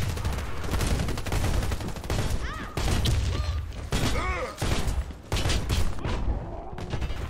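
Gunfire in the Warface video game on Xbox One, rapid bursts of automatic shots and thuds, loud and close, alternating with brief pauses over several seconds, with some background noise.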